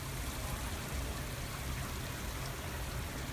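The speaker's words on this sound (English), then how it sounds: "Beautiful waterfall." A decorative waterfall at an indoor flower and garden show roars as a dense, steady wash of splashing water, loud and close throughout, with no voices over it.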